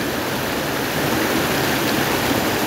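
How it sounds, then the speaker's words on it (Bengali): A forest waterfall near Thanchi in Bandarban pours in a dense, continuous roaring rush, steady and full with no breaks, and no voices over it. "এখানে দেখেন পানির জলের শব্দ,"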